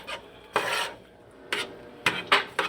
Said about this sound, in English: then I'm going to stir that in and get that mixed up